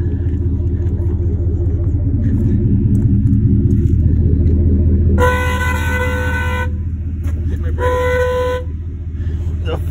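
A truck horn honks in two loud sustained blasts, first about one and a half seconds long and then a shorter one, over a steady idling engine rumble; the horn sounds when the brake is pressed because of a wiring fault at the rear.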